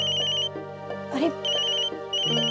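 Phone ringtone playing a repeating electronic melody in clear, even bursts, loud and close, with a brief voice cutting in between the rings.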